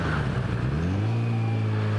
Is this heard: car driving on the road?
yes